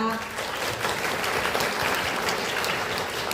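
Audience applause at a lawmaker's parliamentary activity report event, welcoming a Sewol ferry disaster family association official; steady, dense clapping from a large crowd with voices mixed in.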